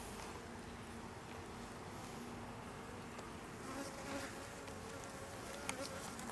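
Honey bees from a weak, small hive buzz during a beehive inspection, a steady, dense hum filling the whole stretch at moderate loudness, with no talking.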